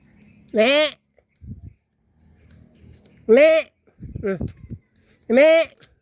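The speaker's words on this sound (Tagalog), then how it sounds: "kambing." A goat bleats three times in loud, wavering cries spaced a couple of seconds apart, with softer rustling and a low voice between calls.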